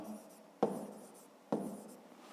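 Numbers written by hand, pen scratching softly on paper with two sharp taps as strokes begin, close and quiet, no talk.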